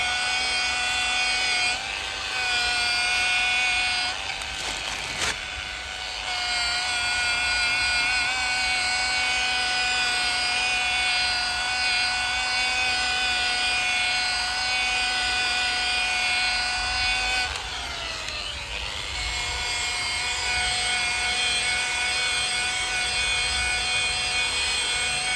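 Power polisher buffing a repaired car bumper, a steady loud whine with sustained tones running the whole time, briefly interrupted and shifting pitch as pressure changes.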